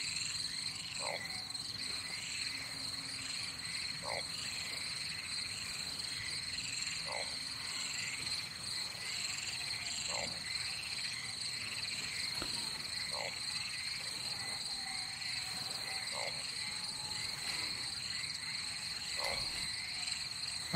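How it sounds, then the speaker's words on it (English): Frogs croaking in the video game Loveland: short croaks at a slow, regular pulse about every three seconds over a steady, shrill chorus of insect-like trilling and a constant background hum. "There's a lot of frogs everywhere."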